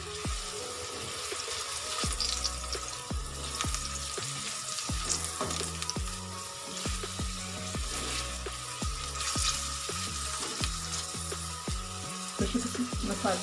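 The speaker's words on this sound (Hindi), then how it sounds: "हम ये 2 हिस्सों में बैंगन फ्राई करेंगे।" Brinjal (eggplant) frying in hot ghee, a steady close sizzle and crackle throughout with repeated soft knocks and scrapes of a utensil against the pan.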